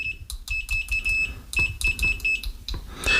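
GVDA GD107 pen multimeter on stock default test leads gives a series of short, sharp continuity beeps in an irregular stuttering rhythm, close and clear, ending in a slightly longer tone.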